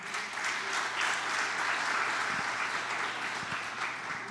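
A church congregation applauds during a sermon, a dense steady wash of clapping from many hands that holds evenly for several seconds with a few low thumps underneath.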